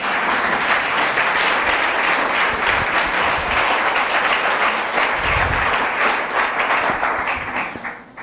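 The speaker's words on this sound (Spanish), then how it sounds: "Aplauda al rey." A church congregation claps together in loud, sustained applause, dense and steady for about seven seconds, then fading at the close.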